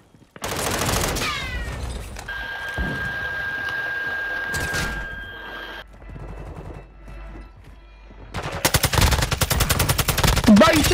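Gunfire in Call of Duty: Modern Warfare II, rapid automatic bursts crackling loud and close at the start, then a sustained stretch of mechanical and ambient game noise before another dense volley of rapid shots breaks out near the end.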